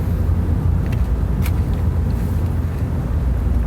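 Steady road rumble fills the inside of a car driving along a highway, a constant low drone with faint higher hiss and no voices.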